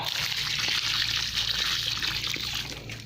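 Water pours steadily from close by onto a newly planted banana sucker, a continuous splashing trickle soaking into the soil.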